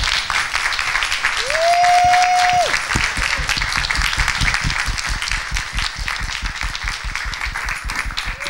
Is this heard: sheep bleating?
no